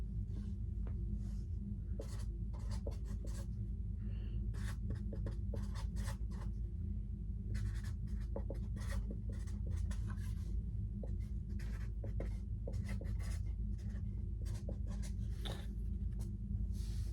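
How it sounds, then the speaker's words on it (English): A pen scratches steadily across paper as an equation is written out by hand, giving a close, quiet run of short strokes and taps over a low hum. "I'll write it out again"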